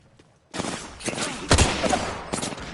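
Gunfire in the video game Apex Legends, heavy rapid bursts that start suddenly, run loud and dense through the middle and flare again at the end.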